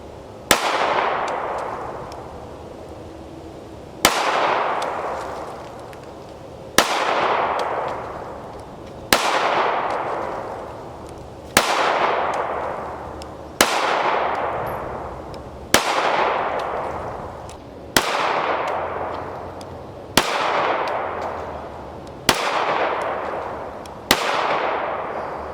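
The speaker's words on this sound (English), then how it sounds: "So then I took it out and wanted to try some accuracy to see how well it shot." Remington R51 Gen 2 pistol fired at target practice: eleven sharp, loud single gunshots spaced about two to three seconds apart, each with a quick echoing decay, no talking.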